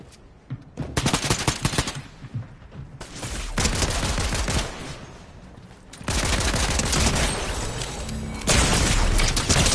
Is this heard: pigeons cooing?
no